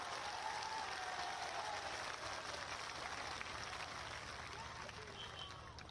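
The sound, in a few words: crowd applause honouring Air Force soldiers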